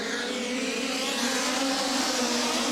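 Midget race cars roaring around the Federated Auto Parts Raceway at I-55 speedway during a POWRi league race, a dense continuous engine drone with rising, shifting pitch as cars pass.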